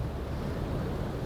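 Steady rushing noise of wind inside a canyon a few meters from a waterfall, mixed with roaring water, a dense broadband wash with no breaks.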